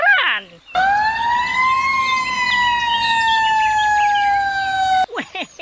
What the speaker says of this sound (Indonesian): selanjutnya ada mobil pemadam kebakaran